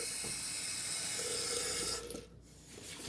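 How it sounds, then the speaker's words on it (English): Tap water runs onto a shaving brush, a steady soft splashing rush that briefly dips and changes as the brush moves under the stream. "Let's get a little water on that brush."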